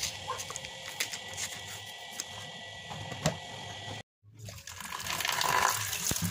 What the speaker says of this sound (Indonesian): cuci singkongnya dengan air yang mengalir